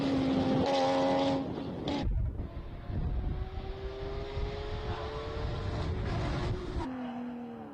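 A classic racing car pulls away from the start line at a Cape Town speed classic meet, its engine roaring loudly then rising through revs as it accelerates off, with a steady engine drone continuing as it recedes.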